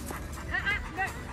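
Dogs off lead in a cemetery give a few faint, short whimpers and yips against quiet outdoor background noise.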